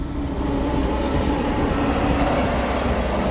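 A sky tram glides through a vast space station in the horror game Dead Space, giving off a steady, loud low rumble and mechanical drone that holds even for a few seconds with no voices.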